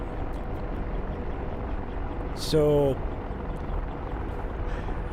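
An Apache attack helicopter hovers in the DCS World flight simulator, its rotor and turbine drone a steady, dense wash throughout, with one brief spoken word midway.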